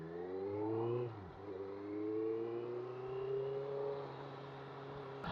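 A Honda CBR 650 R sport motorcycle engine revs hard accelerating, its pitch climbing steadily with a brief dip near the start, loud and close, with no voices over it.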